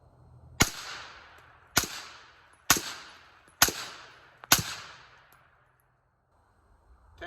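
Five sharp suppressed rifle shots from a 16-inch 5.56 carbine fitted with a Black Anchor Tactical Nautilus suppressor, evenly spaced about a second apart, each a crisp report with a short decaying tail, then quiet.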